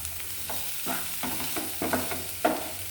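Prawn fry with curry leaves and green chilli being stirred in a pan, steady sizzling broken by repeated scraping strokes of a spoon roughly every half second, close and alone.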